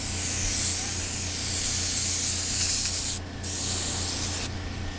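An airbrush sprays paint onto a Kawasaki track bike, producing a steady, close, airy hiss that continues without a break, dipping briefly twice before resuming.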